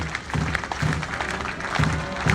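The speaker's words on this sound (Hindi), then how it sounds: "तालियों से इस ब्लैक कैट कमांडो रैली का स्वागत करें" Applause from a ceremony audience greets a National Security Guard Black Cat commando rally at its flag-off in Lucknow, a steady wash of clapping sustained throughout.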